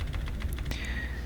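Rapid, light keystrokes on a computer keyboard while entering a stylesheet link in code, a brief cluster of soft clicks close to the microphone.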